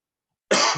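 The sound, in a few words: cough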